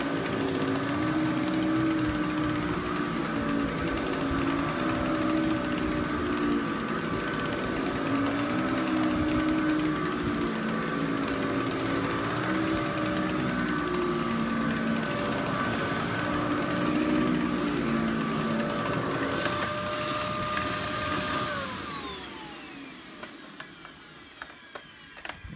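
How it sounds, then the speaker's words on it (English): Hoover Z700 upright vacuum cleaner running with a loud, steady motor whine and airflow roar, close by, with no talk; near the end the motor winds down and the whine falls away to near silence. "it actually turns the whole motor on low speed, and then the brush roll motor goes down with it"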